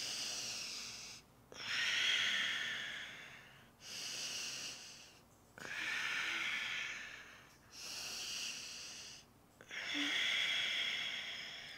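Slow, steady breathing held during a twisting yoga headstand, with about five long airy breaths, each a soft hiss of air, separated by brief quiet pauses. The breaths are close and fairly quiet, with no talking.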